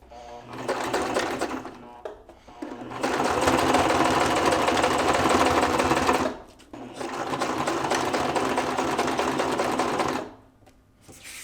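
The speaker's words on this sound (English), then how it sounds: "I've paused right at the edge of the fabric so I can do the same thing stepping onto the other piece." A sewing machine stitches a superimposed seam with a 3/8 seam allowance on harness wing fabric, running in two long steady bursts of whirring motor and rapid needle clatter, separated by short pauses, close by.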